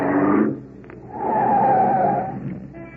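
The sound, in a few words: car pulling up and skidding, radio drama sound effect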